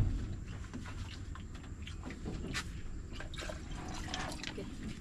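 Water being poured into a sweet food mixture, heard as a faint trickling and dripping stream over a steady low background rumble and hum, continuing for several seconds.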